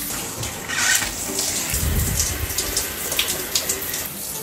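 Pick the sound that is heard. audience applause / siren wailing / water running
water running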